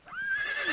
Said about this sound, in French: Des balades au rythme des chevaux qui vivent ici en semi-liberté.